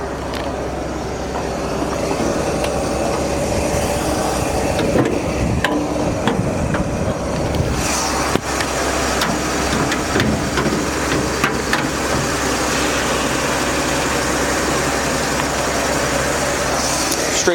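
A 1954 Chevrolet Bel Air convertible's straight-six engine runs steadily nearby, a loud, constant low rumble with a smooth idle and occasional ticks and clicks over its long stretch.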